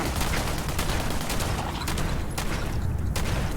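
Rapid gunfire from a teammate shooting at an enemy in the game Fallout 76, a dense continuous fusillade of overlapping shots with a few sharper cracks standing out, loud and steady throughout.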